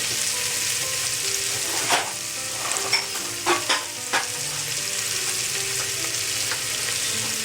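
Thinly sliced onion frying in a pan with asafoetida and cumin, a steady broadband sizzle with a few sharp clicks and scrapes of a utensil stirring, close and moderately loud with no talking.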